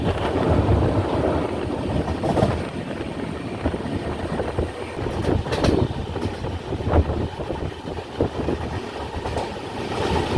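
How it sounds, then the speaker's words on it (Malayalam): A passenger express train rumbles across a bridge over the Kallada river in Kerala, with a continuous loud roar, rattling and repeated clattering wheel beats heard from on board. "കല്ലടയാറിന് മുകളിലൂടെയാണ് ഇപ്പോൾ ട്രെയിൻ പോകുന്നത്."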